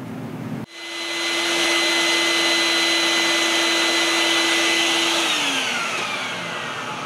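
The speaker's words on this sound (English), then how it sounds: "get uh, my vacuum cleaner here and clean up this mess" A vacuum cleaner switches on abruptly and runs with a steady high whine and rushing air, its pitch dropping slightly near the end.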